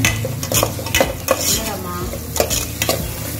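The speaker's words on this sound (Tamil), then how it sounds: "நல்லா கிளறி விட்டோம்" Beans and carrots for aviyal are stirred in a hot pan, with a spoon scraping in an uneven rhythm over a continuous close sizzle.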